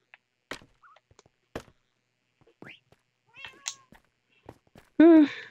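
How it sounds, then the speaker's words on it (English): Cats meow several times in short, scattered calls, ending with a loud, close, drawn-out meow; the calls are fairly near with quiet gaps between them. "Kitties, where are you?"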